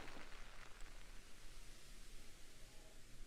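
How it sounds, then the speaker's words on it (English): Steady rain hisses in a video game, an even, broadband wash that continues for several seconds with no speech. "And that is rain that I hear."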